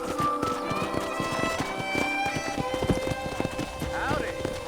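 Horse hooves in Red Dead Redemption, a steady clip-clop of a horse moving by a ranch corral, close and continuous, with a whinny near the end and music or ambience beneath.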